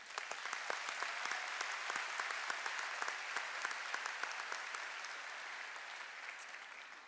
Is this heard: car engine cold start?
no